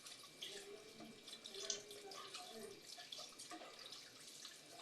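Tap water runs while shellfish are rinsed clean, a faint, steady splashing stream under light background noise, with no clear voices over it.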